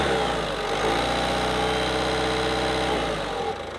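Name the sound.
car engine revving, vibrating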